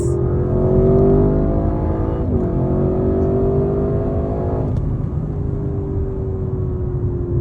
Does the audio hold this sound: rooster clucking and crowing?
no